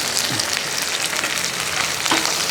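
Onion, garlic and dried red chillies fry in hot oil in a pan, a loud, dense, continuous sizzle with occasional crackles close up and no talking.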